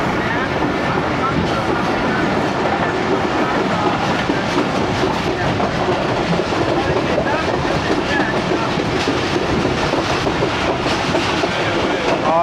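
Inside a moving Pakistani passenger train, the Ghouri Express heading from Faisalabad toward Lahore, a loud continuous rumble and rattle of the carriage runs with faint rhythmic wheel clatter on the rails.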